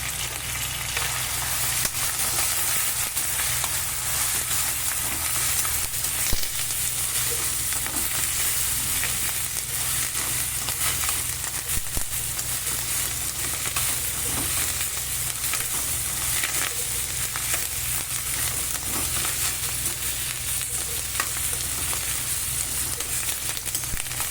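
Sliced onions and curry leaves fry in a pan for rice-flour upma, making a loud, steady, close sizzle that runs unbroken throughout, with no talk.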